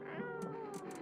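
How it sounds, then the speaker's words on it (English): A cat in the video game No, I'm Not a Human meows softly, a brief quiet mew lasting about a second with faint clicks behind it. "Where's the cat?"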